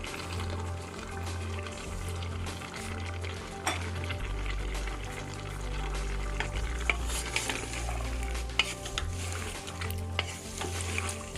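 Cauliflower and half a kilo of mutton in a little water sizzle and bubble in a pan over high heat, a continuous frying hiss with occasional stirring scrapes and clinks, close up and without talk.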